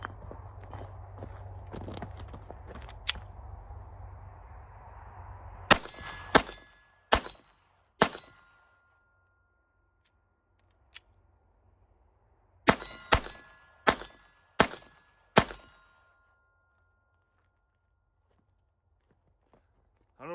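Walther PPK/S .22 LR pistol firing Winchester 40-grain rounds outdoors, two groups of sharp shots, four then five, with pauses between, after some handling noise.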